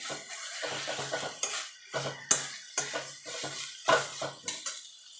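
Chickpea greens are stirred and mixed in a pan with a metal utensil, making repeated clanks and scrapes against the pan in an uneven rhythm, close and fairly loud, with a faint sizzle underneath.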